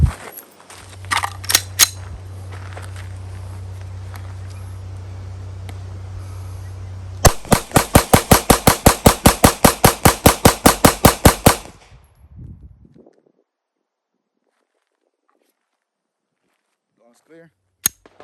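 A Glock pistol fired at a shooting range with a 22-round magazine (17 plus 5): a few scattered loud shots, then a fast, evenly spaced string of about twenty close, sharp reports that abruptly stops into quiet.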